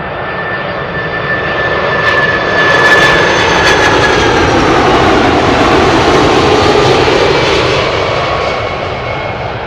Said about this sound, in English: United Airlines, Star Alliance livery, Boeing 767.